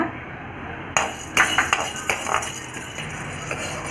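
Split roasted gram is dry-roasted in a pan for Andhra paruppu podi, giving a series of light rattling clinks and scrapes as it is stirred, close and moderately loud.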